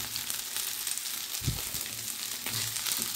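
Meat frying in a pan for homemade shawarma, a continuous loud sizzle with a few low thumps and scrapes of stirring.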